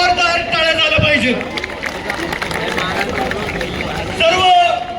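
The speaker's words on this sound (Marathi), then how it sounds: "एकदा सर्व या सरदार घराण्यांसाठी एकदा जोरदार टाळ्या झाल्या पाहिजे" Large crowd at a Chhatrapati Shivaji Maharaj Janmotsav celebration, a dense wash of voices and hubbub with some clapping mixed in, swelling at the start and again near the end, loud and close.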